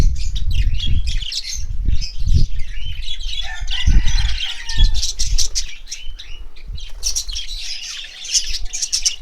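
Pairs of TCB birds chirp and squawk close by, with dense overlapping calls, sharp tweets and brief bursts of wing flapping, loud and continuous throughout.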